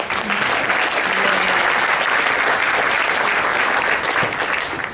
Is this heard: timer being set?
no